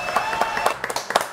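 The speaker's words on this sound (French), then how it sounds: "Applaudissements pour Loïc Lacroix." Brief applause from a small audience at a French stage event, honoring a performer. Sparse, separate hand claps sound at a moderate level with no voices over them.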